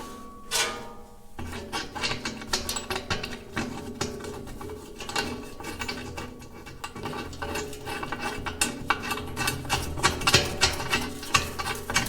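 Bolting the fenders back onto a Caterpillar D2 crawler tractor, a dense run of rapid metallic ratcheting clicks and rattling from a wrench, near and continuous, with no talk.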